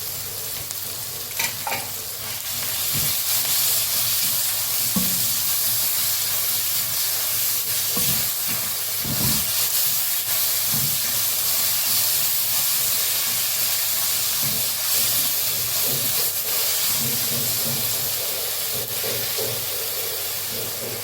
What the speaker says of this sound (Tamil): இப்போ வந்து இஞ்சி பூண்டு பேஸ்ட் போட்டுக்கிறேன்